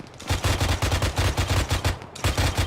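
Rapid bursts of automatic gunfire in the military video game Arma, loud and close, firing in a steady rhythmic string of about a dozen shots with a short pause near the end before resuming.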